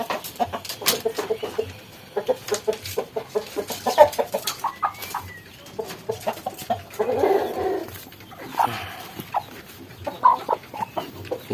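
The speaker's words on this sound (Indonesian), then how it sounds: "di kanan saya ada 2 ayam yang terkena snot" Two chickens with snot, a disease causing swollen, watery eyes, cluck in their pen, with repeated close bursts of clucking at irregular intervals, some louder and longer than others, over about eleven seconds.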